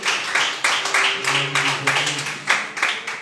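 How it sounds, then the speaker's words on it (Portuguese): Congregation applauding for Jesus at a church service, a steady run of dense clapping with repeated swells, fairly close and loud, over a sustained low tone from the room. "Agora dê uma salva de palmas bem forte para Jesus"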